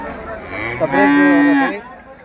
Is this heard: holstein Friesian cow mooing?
yes